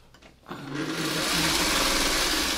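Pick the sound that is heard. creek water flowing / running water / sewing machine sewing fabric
sewing machine sewing fabric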